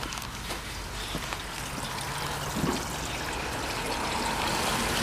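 Water trickling softly in a backyard pond, a faint continuous outdoor dribble and flow heard alone with light background noise.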